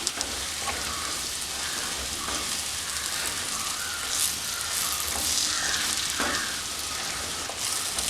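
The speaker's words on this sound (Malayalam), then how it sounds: "ചെമ്മീൻ ചേർത്ത് കൊടുത്തിട്ട് നന്നായിട്ട് മിക്സ് ചെയ്തെടുക്കണം നന്നായിട്ട് മിക്സ് ചെയ്തിട്ട് ഇതൊന്ന് റോസ്റ്റാക്കി എടുക്കണം" Prawns being mixed and roasted in masala for chemmeen roast sizzle steadily in a hot pan, with a continuous frying hiss and occasional scrapes of stirring, close and fairly loud throughout.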